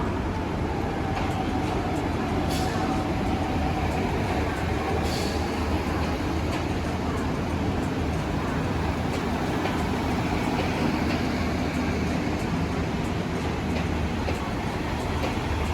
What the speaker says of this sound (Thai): ขบวนรถผู้ดีอังกฤษนะครับ สปินเตอร์